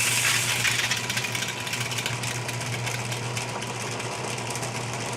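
A homemade DIY strip sander runs steadily alone, a constant motor hum with a faint rattling whir at an even pitch.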